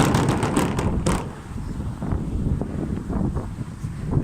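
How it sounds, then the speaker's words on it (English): Gusty wind buffeting an outdoor microphone on a street in a windy part of town, a steady loud low rumble with stronger swells throughout and no speech. "It's always windy around this part of town."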